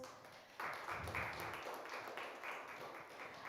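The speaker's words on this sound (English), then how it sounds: "please join me in welcoming them with a round of applause" An audience at an evening panel discussion at UNISA claps to welcome the speakers, a faint, distant wash of applause that rises after a moment and keeps going steadily.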